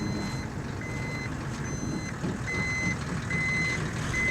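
A tow truck in the Desert Bus video game gives steady, repeating reversing beeps at an even pace over a constant low engine drone, with no talking.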